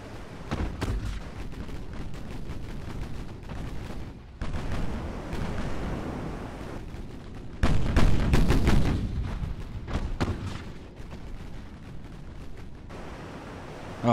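Naval 18-inch guns in Ultimate Admiral: Dreadnoughts boom heavily in repeated deep blasts with rumbling tails. The loudest salvo comes about halfway through and sharper cracks follow, with no talking.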